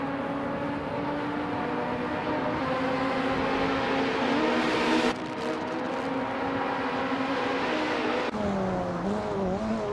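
Vintage race cars, including a 1996 Ozella and a BMW, roar off the start at Laguna Seca, a dense, steady engine drone with rising and falling pitch as cars accelerate past, loud and continuous throughout.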